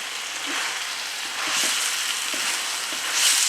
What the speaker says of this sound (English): So continue tossing until everything is nicely mixed together.